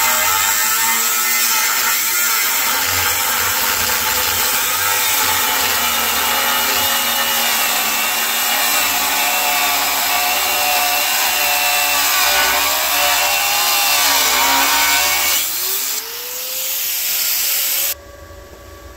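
Power tool cutting through a Jeep's steel frame, a loud continuous high-pitched grinding whine sustained for about fifteen seconds before dropping in pitch and cutting off.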